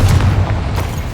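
The Confringo blasting spell exploding in Hogwarts Legacy, a single loud, low booming blast that rumbles heavily and fades through the short moment.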